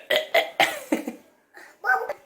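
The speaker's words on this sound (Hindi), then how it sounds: "बाबू की डकार आ गई।" A baby burping several times in short, close bursts, with a brief pause before a final louder burp; no speech over it.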